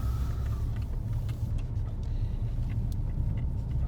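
Mini John Cooper Works GP hatchback (GP2, 2013) driving on a bumpy road, with a steady, loud low engine and road rumble running throughout, close and continuous with no talking.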